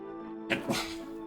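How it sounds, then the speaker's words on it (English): A single close, sharp sneeze bursts out of quiet room tone, a quick two-part blast lasting under a second, during a tabletop role-playing game session. "Bless you. Sneezing."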